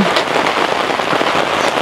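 Rain falls steadily on a camping tent, a dense, close patter of drops across the whole stretch with no voices.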